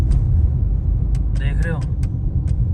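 A car climbs a dark, unlit road up to a fort near Jaipur in Rajasthan, its engine a low steady rumble, with a short harmonic horn-like tone and a few sharp clicks above it.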